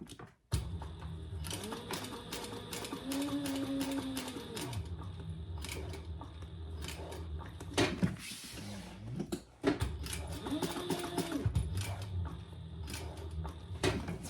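Sewing machine stitching through TPU vinyl while making a pouch, a close mechanical whirr with rapid needle clatter and rising motor tones in two long runs separated by a pause with handling clicks, faint voice beneath.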